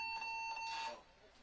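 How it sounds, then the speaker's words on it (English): A game-show style competition buzzer sounds during a team game, a steady loud electronic tone lasting most of a second, amid crowd noise and commentary. "He's about to hit the buzzer."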